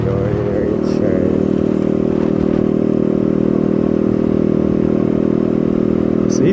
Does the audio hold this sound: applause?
no